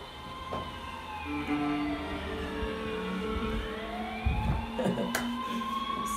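A wailing police siren sweeping up and down in pitch, fairly close, with traffic rumble and a few thumps underneath.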